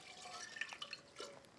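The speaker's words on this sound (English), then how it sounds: "after you put your spices into the pot, you add about 4 cups of water" Water being poured into a cooking pot already holding chai spices, heard as faint, brief dripping and splashing that stays quiet throughout.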